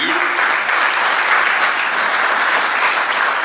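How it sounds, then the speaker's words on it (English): Steady, dense applause from an audience at a press conference, a continuous even wash of clapping with no break throughout. "Can we give her a big round of applause?"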